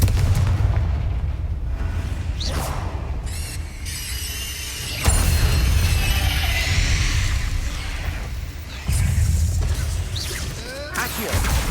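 Repeated Confringo fire spell blasts in Hogwarts Legacy, a series of loud booming, crackling fiery explosions with whooshes and a roaring dense background, several distinct hits spread across the stretch.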